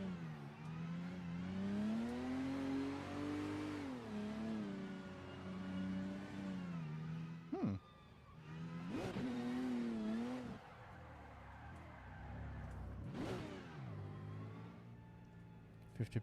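Drift car engine in the Assetto Corsa racing game with turbo boost set to 20%, revving hard in long wavering sweeps, dropping between blips and pulls, with tyre squeal mixed in, loud and close with no talking.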